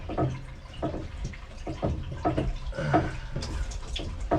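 Water rushes and splashes in a kitchen sink supply in Ireland while the stopcock is turned off, the flow sounding close and uneven with repeated gushing pulses.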